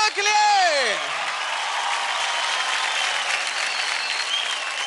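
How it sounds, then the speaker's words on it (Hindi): Loud audience applause and cheering after a dance act on a televised dance competition stage, opening with a swooping musical sting and then settling into sustained clapping from a large crowd. "क्या बात है, जोरदार तालियां हो जाए महिला के लिए।"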